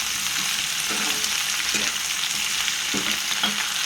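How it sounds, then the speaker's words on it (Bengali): Cauliflower fries in hot oil for a vegetarian khichuri, giving a steady close sizzle broken by a few scraping stirs, with no talking. "সবার সাথে ফুলকপিটা ভেজে নিচ্ছি"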